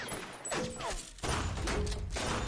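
Rapid bursts of gunfire in The Walking Dead (Episode One) crackle and thump in quick succession, loud and close, with a sustained rattling volley in the second half.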